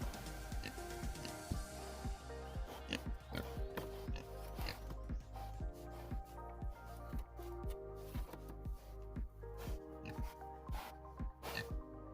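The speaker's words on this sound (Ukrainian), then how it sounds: "їдять, аж чавкають, аж за ушами лящить" Piglets munching and smacking loudly at close range, with wet chewing clicks and occasional grunts in an irregular, busy rhythm.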